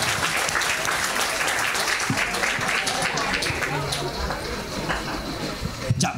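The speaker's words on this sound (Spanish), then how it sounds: "Más fuerte el aplauso para él." An outdoor festival crowd on San Juan night in Chiloé applauds a local performer, a steady wash of clapping with cheers and voices scattered through it, and a sharp clatter near the end.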